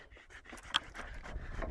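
During obstacle course training, a dog pants quickly and softly up close in short rhythmic breaths, with a faint yelp-like sound partway through.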